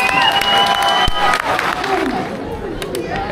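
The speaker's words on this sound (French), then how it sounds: "Je vais applaudir." Loud, close crowd applause and cheering at a village retro festival mini-miss pageant in Auzon, Haute-Loire, with dense clapping, shouts and children's voices mixed through, plus chatter and a sharp thump midway.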